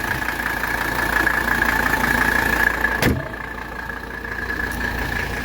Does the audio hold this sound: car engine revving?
yes